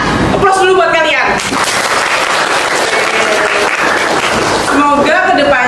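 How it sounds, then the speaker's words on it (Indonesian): A class of students clapping, a dense sustained round of applause filling the clip, with a voice speaking over it at the start and end. "Aplaus dulu buat kalian."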